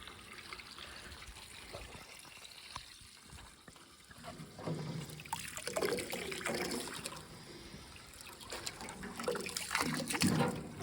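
Water trickles and gushes steadily from a tank, growing louder and more turbulent partway through, like liquid draining out, with no talking.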